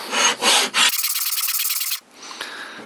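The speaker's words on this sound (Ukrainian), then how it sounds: "Тут стояла свіжа у мене наждачка." Sandpaper rubbed over a wooden Kunz 51 spokeshave, a few broad scrubbing strokes followed by a quick run of rapid, even rasping strokes, then a fainter scratchy rub, close and with no talk.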